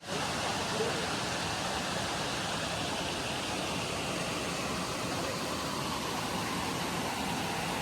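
Continuous broadband rush of flowing water, steady and even from start to finish, like a nearby stream tumbling over a small fall; a monsoon forest stream and waterfall near Waghbil cave, Badlapur.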